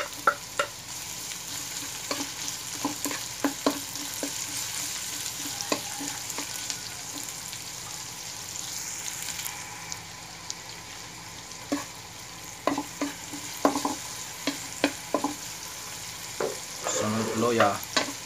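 Garlic and onion sautéing in a pan for boneless bangus with tokwa and black beans, a constant sizzle of hot oil with intermittent clicks and scrapes of a spatula stirring, growing busier toward the end.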